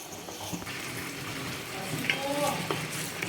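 Spiced masala paste simmering in a pan after water is added, cooking for a Kolhapuri misal, giving a steady soft bubbling sizzle with faint clinks, close and moderately loud throughout.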